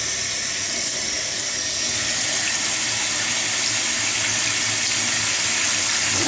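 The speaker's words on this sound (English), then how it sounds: "what I normally do is fill the sink with cold water" A kitchen tap runs steadily into a sink, filling it with cold water in a continuous close hiss and splash, with no talking.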